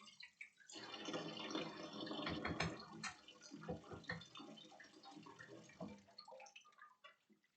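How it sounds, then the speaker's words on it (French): Running tap water rinses a plastic part from a Nintendo console under a cold stream, a steady close splashing wash with drips and clatter, no talking. "Un petit coup de rinçage à l'eau froide."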